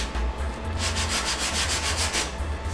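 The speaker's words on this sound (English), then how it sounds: "We're just going to use the 80 grit again on the drawer block, just to knock the top off it." Steady rhythmic rasping of an 80-grit sanding block scrubbing back and forth over hard body filler on a car dent repair, close up, with no voices.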